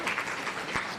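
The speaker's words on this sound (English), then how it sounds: "A round of applause for her," Audience applause for a speaker at a renewable energy conference, a brief steady burst of many hands clapping in a hall, moderately loud and continuous.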